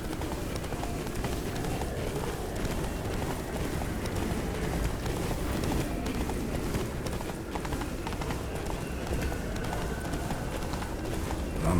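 Roach the horse gallops in The Witcher 3, hooves pounding in a steady rapid clip-clop over a dense, loud in-game soundscape that runs without letup.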